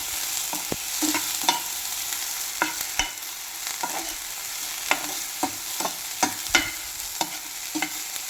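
Food heats in a pan with a steady soft sizzle while a utensil scrapes and taps against the pan in irregular strokes, close and fairly clear.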